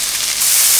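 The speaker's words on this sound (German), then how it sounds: "Wir haben jetzt etwas Sonnenblumenöl in einer Pfanne erhitzt und werden jetzt, wie nach dem Rezept, erstmal unser Knoblauch und Zwiebel anrösten." Garlic and onion fry in hot sunflower oil in a pan, giving a steady, close, bright sizzle that grows a little louder partway through, with no talking.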